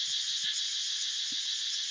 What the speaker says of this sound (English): The Cicadas are singing to us right now.